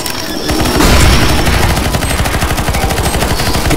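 Rapid automatic gunfire in the game CS:GO, a loud, sustained burst of closely spaced shots that continues almost without pause, with no voices over it.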